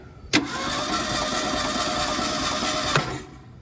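A 1977 Ford Mustang II, off the road for decades, cranks and fires: a sharp start, then a loud, steady, rough engine roar close by for about three seconds before it cuts off, with no talk.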